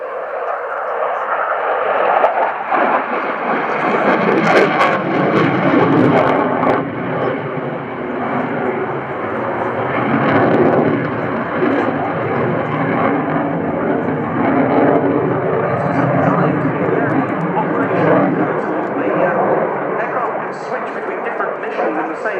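A military jet, shown at the RIAT 2018 Fairford airshow, roars loudly and continuously as it passes, a broad sustained engine noise that swells at the start and holds for the whole stretch.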